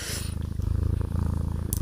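A cat purrs loudly and close while rubbing against a phone, a steady rhythmic rumbling pulse lasting throughout, with no talking.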